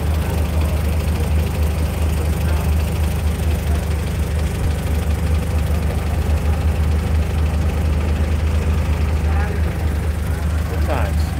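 A Volkswagen fastback's engine idles steadily with a deep, continuous low rumble that holds level and loud throughout, without revving, with faint background noise over it.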